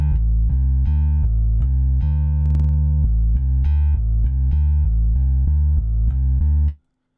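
Bass line from the MODO BASS virtual instrument with a compressed, beefy tube amp tone, a steady run of loud, sustained notes that stops abruptly near the end.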